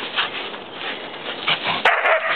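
A dog barks outdoors in the snow, several short yips close by over steady background noise, with no talking.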